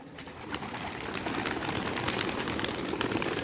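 Racing pigeons cooing in a steady, dense chorus at a race release, continuous and fairly close throughout, with no voices.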